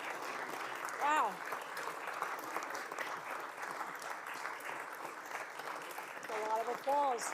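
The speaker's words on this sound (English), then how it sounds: "A lot of applause." Sustained audience applause fills a legislative chamber during a 2023 State of the State address, a broad steady roar of clapping that swells near the start and end while voices talk over it.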